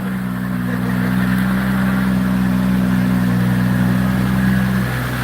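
A 2,000 horsepower car engine running at a steady, loud idle, with a deep even drone and a low hum that holds throughout before easing slightly at the very end.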